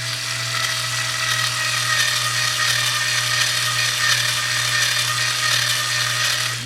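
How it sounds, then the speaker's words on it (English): A power drill drilling out a spinning rivet on an A/C disconnect switch whines at a steady pitch for several seconds, grinding continuously with a constant motor hum and no pauses. "I might just be spinning the rivet and try drilling out this way"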